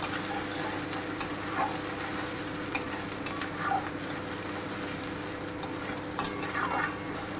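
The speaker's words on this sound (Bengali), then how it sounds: "রসুন বাটাটা দিয়ে দিচ্ছি একটু নেড়ে নেব আঁচটা আমি কমিয়ে দিয়েছি" Garlic paste, added after onion paste, is stirred in a pan over low heat: a steady soft sizzle runs throughout, broken by occasional sharp scrapes and taps of the spoon against the pan, with no talking.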